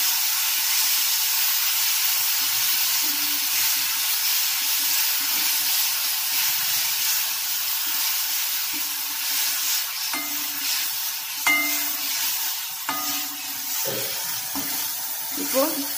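Ingredients for a jamun fruit rice being sautéed in a pan with a little salt, a soft steady hiss with occasional stirring clatters that grow busier toward the end.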